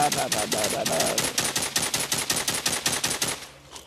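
Rapid gunfire from a 12-gauge shotgun in The Walking Zombie 2, a fast, unbroken burst of loud, close shots at a steady rapid rhythm that stops abruptly, no talk.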